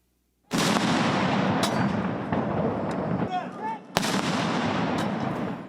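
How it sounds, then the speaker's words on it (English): Two heavy cannon blasts from Japan's Self-Defense Forces firing a 19-gun salute boom out, each followed by a long rolling echo that lingers across the open air. "Members of Japan's self-defense forces fired cannons in a 19-gun salute as Abe's widow, Aki Abe"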